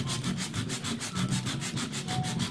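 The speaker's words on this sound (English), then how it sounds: "just slightly rub off the paint that you have on the back of your board" Sandpaper scrubs paint off the back of a wooden board in quick, rhythmic back-and-forth strokes, close and steady with no talking.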